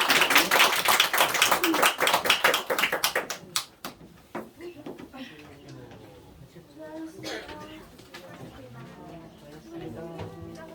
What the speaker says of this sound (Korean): 하나님께 영광의 박수 한번 드리겠습니다.